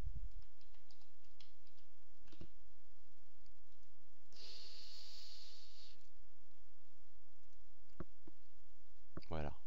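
A few sharp computer mouse clicks stand out close up over a quiet room, spaced apart, with a short hissing burst in the middle and a person speaking French at times.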